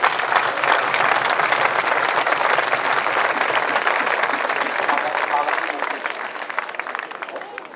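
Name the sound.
crowd applauding the cart teams at a traditions festival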